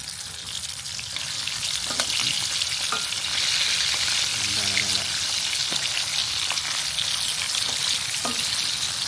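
Mackerel cooking in a bubbling chu chee curry sauce in a pan, a loud, constant sizzle and crackle with a few light clinks of a utensil.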